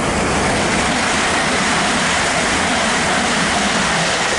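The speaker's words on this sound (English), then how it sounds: "Heathrow Express off to Terminal 5." A Heathrow Express train rushing past at Hanwell on the Great Western Main Line, a loud, steady roar of wheels and air that fills the whole clip without a break.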